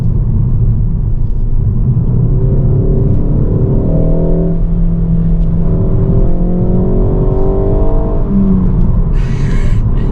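A manual Ford Focus ST estate's engine drones steadily from inside the cabin, with the pitch rising and falling through gear changes as rev matching blips the throttle. The sound is close and continuous, with no talk over it.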